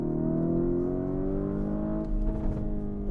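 A Lamborghini Huracan or Urus engine revs in a loud sustained drone with a slight pitch rise and a second surge near the end, heard alone without talk.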